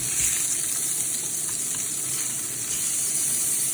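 Wagyu beef burgers sizzle steadily on a hot grill, a constant bright crackling hiss with no talking.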